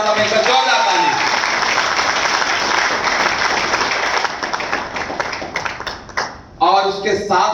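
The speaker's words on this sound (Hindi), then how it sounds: "जोरदार ताली चाहता हूं, जोरदार ताली" A large audience at a training event gives loud, sustained applause that fills the room, then fades to scattered claps as a voice comes back in.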